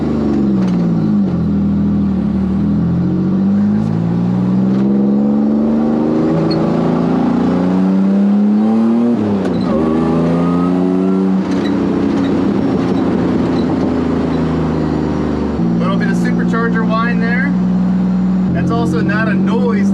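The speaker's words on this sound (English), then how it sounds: "Hearing that whining of the superchargers, it's pretty fun" Supercharged Pontiac Fiero race car engine revving on the move, its pitch climbing and falling repeatedly with a steady supercharger whine on top, loud and close throughout, with talk over it.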